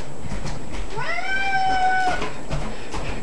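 A house cat meows once in a long, drawn-out call as it follows a person around indoors, close and clear over quiet room tone.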